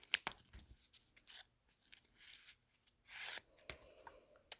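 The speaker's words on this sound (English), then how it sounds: "I had to get scissors. I guess we have to cut this open." Scissors snip and crunch through the plastic packaging of a pair of tweezers, a few short crisp cuts and rustles close up at low level, with quiet pauses between them.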